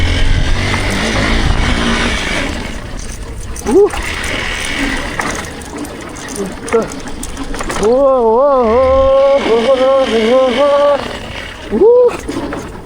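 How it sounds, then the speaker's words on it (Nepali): A motorbike rides along a rough, muddy rural road, its engine droning steadily with bumps and rattles, while tonal engine revs rise and fall toward the end. "यो रोडमा बाइक चलाउनुको मजै छुट्टै छ"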